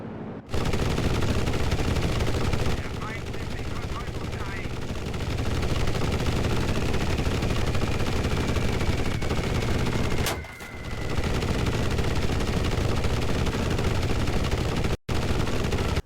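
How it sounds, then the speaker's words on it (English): Aircraft cannon fire in the video game Enlisted, shooting at enemy bombers during the German Stalingrad campaign: a loud, sustained stream of rapid automatic fire with engine roar, pausing briefly near the middle and cutting out for a moment near the end. "you can easily shoot down enemy bombers with your cannons"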